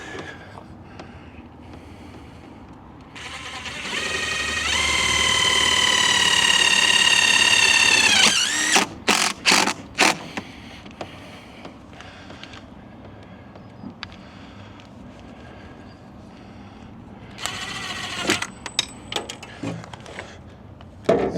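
A power driver whines steadily for several seconds as it drives screws into friction hinges on an RV entry door, followed by short clicks and clunks of handling hardware, and later a brief second burst of driving.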